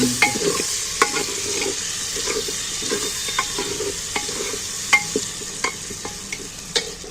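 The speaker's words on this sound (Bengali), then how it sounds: "পেঁয়াজটা আমি বাকি তেলের মধ্যে পেঁয়াজটা দিয়ে দিই এবার আমি পেঁয়াজটাকেও একটু ভেজে নেবো" Onions frying in oil in a pan give a steady close sizzle, broken by repeated clicks and scrapes of stirring at an irregular rhythm, with no talking.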